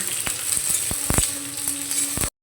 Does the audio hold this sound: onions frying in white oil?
yes